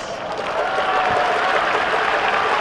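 Baseball fans in a stadium applaud during a post-game hero interview, a dense steady wash of clapping that swells slightly and fills the whole clip without a break.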